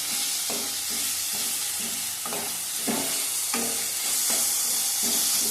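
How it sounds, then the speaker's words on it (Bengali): Two large eggplants frying in hot oil in a pan, a steady loud sizzle running throughout with repeated stirring scrapes at a regular pace, close up with no voices. "দুটো বড় বড় বেগুন দিয়েছে, একটুখানি হয়ে গেছে দেখো।"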